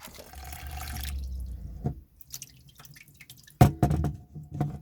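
Water drains and drips out of a holed coconut shell holding small tomatoes, a continuous trickle at first, then scattered drips and a few louder splashes close by.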